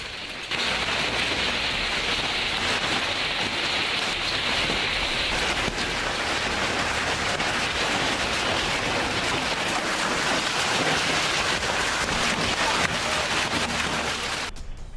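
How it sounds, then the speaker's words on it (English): A heavy hail storm in New South Wales, a dense, loud, continuous hiss and patter of hailstones pounding surfaces, steady and unbroken throughout with no voices. "A powerful storm sweeps across New South Wales, bringing heavy hail that blankets the ground"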